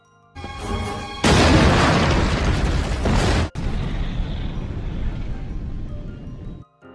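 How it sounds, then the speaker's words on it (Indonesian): A loud, sustained movie explosion booms and rumbles on, followed by a long roaring tail that slowly fades before cutting out. "tiba-tiba muncullah ledakan pertama"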